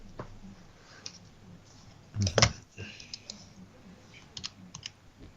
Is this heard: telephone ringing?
no